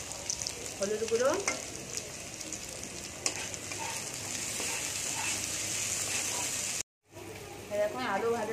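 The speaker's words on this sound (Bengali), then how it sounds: "এবার আলুটা ভেজে নেব।" Potatoes seasoned with salt and turmeric fry in oil in a kadai, a steady broadband sizzle running throughout with a brief dropout near the end, while a voice speaks over it at moments.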